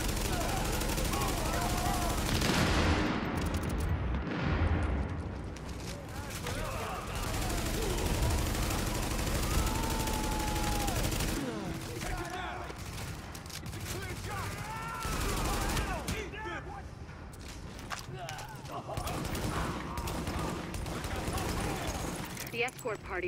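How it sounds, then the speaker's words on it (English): Heavy sustained gunfire from a rooftop gunner in The Division, continuous loud automatic bursts and impacts throughout, with speech mixed underneath. "The escort party's taking heavy fire from the roof."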